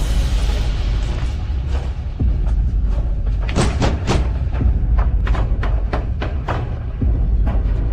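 A run of sharp knocks on a door, some in quick bursts, sounds over a low, steady rumble with no voices.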